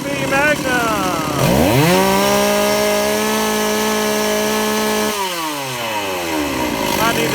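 A Stihl 038 Magnum chainsaw fitted with a Tillotson carburetor runs close and loud, revving up to a sustained high whine, holding steady, then dropping back toward idle.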